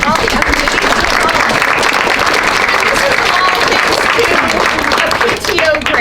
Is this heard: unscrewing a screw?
no